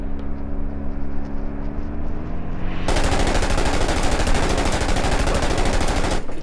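Gunfire in a military shooter video game, rapid machine-gun bursts that suddenly cut in loud and continuous after an engine-like drone, with a vehicle nearby.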